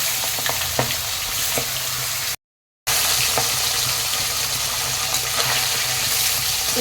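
Salted, turmeric-rubbed magur catfish pieces lightly frying in hot oil, a loud, dense, continuous sizzle with occasional spatters, briefly cut to silence midway before resuming, no speech.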